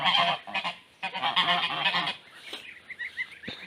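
Several geese honk loudly and repeatedly at close range, their harsh calls overlapping in bursts with brief gaps.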